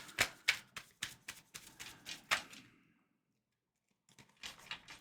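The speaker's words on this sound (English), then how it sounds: "These cards are nice and slippery, so they're a little hard to shuffle." Slippery tarot cards being shuffled by hand in a string of crisp riffling bursts at close range, followed by a short silence and a few softer card flicks.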